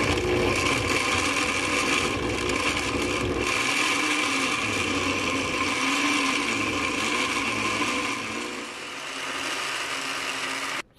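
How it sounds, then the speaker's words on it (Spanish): A blender whirring continuously as it blends a liver remedy juice, a loud, steady motor drone with churning liquid that eases slightly toward the end before cutting off. "Por aquí vamos a batir nuestro jugo."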